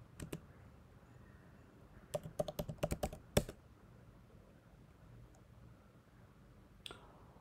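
Typing commands on a computer keyboard, quiet clusters of quick key clicks in short bursts separated by pauses, close and without any talking.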